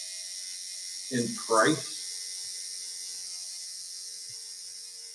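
A new, inexpensive coil tattoo machine gives a steady, high electric buzz that runs through the whole stretch, with a brief burst of talk over it.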